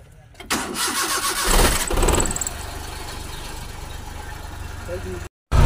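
A car engine cranks and catches with a loud rising roar, then settles into a steady idle rumble, with brief voices early on.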